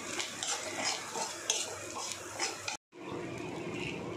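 A spoon stirs pepper through dry, crumbly egg bhurji in a pan, a steady close scraping and rustling with a soft sizzle underneath, broken by a short moment of silence.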